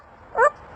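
A grey parrot imitates a dog's bark with one short, clear yelping woof, close and alone.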